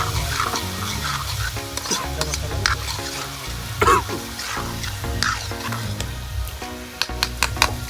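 Tomato gravy goes into a hot pan with turmeric, salt, chili and garam masala, frying and sizzling steadily at close range while a spoon scrapes and stirs in repeated strokes, with a few sharper clatters.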